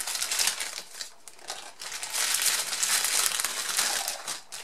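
Plastic pouches and packaging being handled in a craft workshop, a run of loud, close crinkling and crackling bursts in irregular rhythm, with no talking over it.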